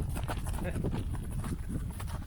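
Horse hooves clip-clopping at a ranch, a steady patter of hoof strikes running through the clip beneath people talking nearby.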